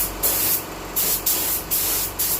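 A spray gun with a 1.2 nozzle lays down clear coat in five repeated bursts of loud, close, broadband hiss, each pass separated by brief drops in level.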